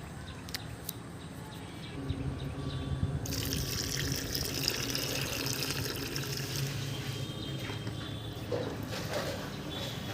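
Water poured from a container onto crumbly soil in a pot prepared for lotus seeds, a steady close trickling and splashing that swells after a quiet start and runs on continuously, with faint birdsong in the background.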